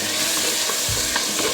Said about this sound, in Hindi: अब हम इसको फ्राई कर रहे हैं।